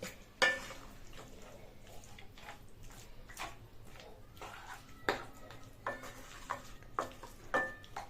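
Mutton frying in a pan, a quiet crackle punctuated by several sharp scraping stirs and clinks of a spatula against the pan, close and intermittent.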